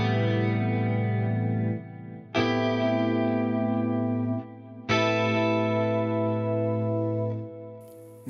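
Electric guitar with heavy distortion strums extended chords, three sustained, dense, loud chords each ringing out for about two seconds before the next is struck.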